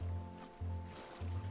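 Splashing movement through water in ARK Survival Ascended, heard as three steady watery surges separated by brief breaks, fairly faint and without talk.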